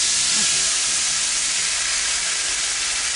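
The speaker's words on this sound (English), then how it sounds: "I'm going to anoint it with some bubble down brandy, about 4 tablespoons, and I deglaze the bacon fat" Brandy bubbling hard as it deglazes bacon fat in a hot pan, a steady, close, loud sizzle and hiss that carries on without a break.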